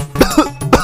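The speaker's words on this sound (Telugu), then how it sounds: "ఏంటి ఉత్తి దగ్గుతున్నావు?" A few quick, close coughs in a rapid throat-clearing burst, loud and alone with no talking.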